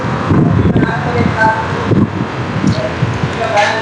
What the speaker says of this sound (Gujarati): આ બારી છે ને પવન આવે બહુ જ પવન છે